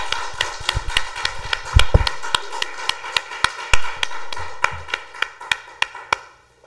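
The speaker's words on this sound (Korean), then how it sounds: "하나님께 영광의 박수." A church congregation claps in a steady rhythmic beat, sharp distinct hand claps roughly twice per second, loud and close, with a short burst of heavier clapping partway through.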